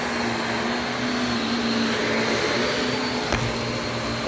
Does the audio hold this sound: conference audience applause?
no